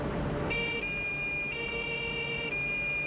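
A military ambulance siren wails in a wartime setting, a steady two-tone electronic cycle repeating about once a second, fairly loud over a rumbling engine background.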